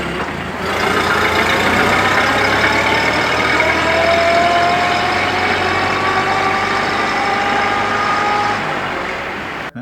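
A 1930 Ford Model A transmission fitted with an aftermarket gear set runs with a steady, loud mechanical drone and a thin gear whine that slowly rises in pitch, holding for nearly ten seconds before cutting off.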